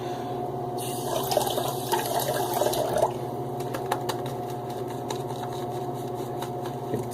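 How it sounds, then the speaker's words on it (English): Running tap water is added to shaving soap lather for a head shave, a steady splashing hiss with soft wet squelches of stirring near the start, close and clear under a low background hum. "I'm going to add a little bit more water,"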